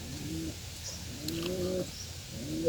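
A white pigeon coos in soft, repeated low phrases, three rolling calls spaced across the moment, fairly close and alone over quiet background.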